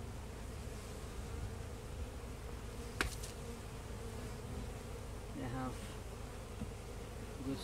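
Honey bees from a weak colony buzz steadily and fairly quietly as a beehive is opened and inspected. A sharp click sounds partway through, and a few louder buzzes pass close by.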